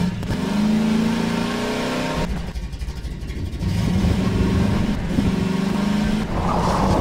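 A car engine in Garry's Mod revs steadily and loudly, drops off briefly near the middle, then climbs back to a sustained drone, with no voices over it.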